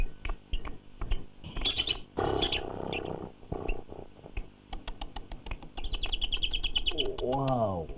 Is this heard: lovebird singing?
yes